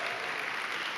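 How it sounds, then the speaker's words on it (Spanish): A church congregation breaks into a short burst of loud, dense applause, an even wash of clapping filling the space without pause. "dale un aplauso bien fuerte a Reyes"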